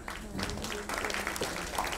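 A crowd claps briefly at the opening ceremony of the 8th Jagran Film Festival 2017, a modest patter of applause mixed with a host's voice.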